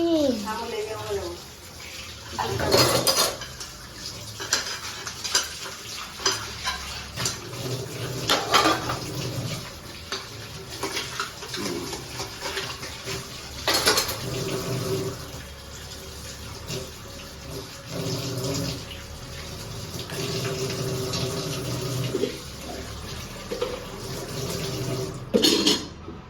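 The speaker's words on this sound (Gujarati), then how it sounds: "વાસણ ધોઈ ગયા." Dishes and a lunch box are washed under a running kitchen tap: steady splashing water with clattering steel pots, plates and cutlery, close up, with people talking now and then.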